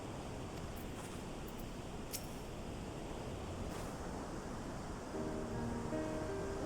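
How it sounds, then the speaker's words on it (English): Big waterfalls in Final Fantasy XIV give a constant, broad rushing roar of falling water that stays steady and fairly soft, with a faint tonal game sound entering near the end and no talking. "They are big waterfalls, aren't they?"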